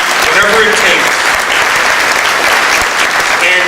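A keynote speech at a Catholic Foundation dinner is met with loud, dense audience applause: sustained clapping from a large crowd that holds steady across the moment.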